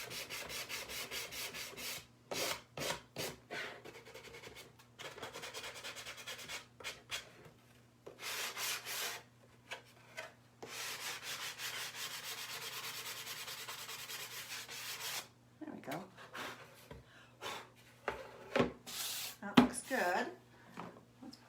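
Bursts of rubbing and scrubbing as excess paint is wiped off an up-cycled Christmas decoration at a craft table. The short, close strokes come in separated bursts with pauses, and a voice talks in places near the end.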